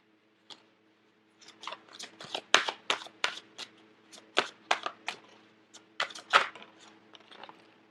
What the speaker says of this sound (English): So I'm going to get 2 more advice cards.